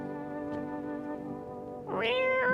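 A cat in the horror video game No, I am Not Human gives a clear rising meow over a steady tonal background hum, loud and close near the end.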